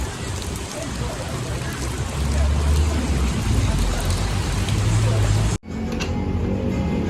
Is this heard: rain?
yes